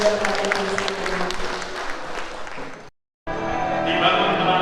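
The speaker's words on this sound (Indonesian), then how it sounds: "Beri tepuk tangan yang meriah sekali bagi Bapak dan Ibu sekalian." An audience applauds at a government office building inauguration ceremony, with dense, loud clapping and crowd noise that cuts off abruptly for a moment and then resumes just as strongly.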